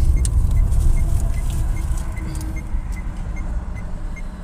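A car drives slowly along a road, its steady low engine rumble and road noise close and continuous throughout, with faint small rattles on top and no talk.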